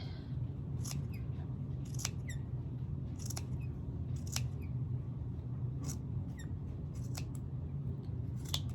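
Scissors snipping fabric to fringe a rag quilt bag, a series of crisp close cuts at an uneven pace over a steady low background hum.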